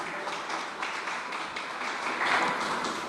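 A church congregation applauds the Lord, a dense, steady patter of many hands clapping that rises a little near the end, with no speech over it.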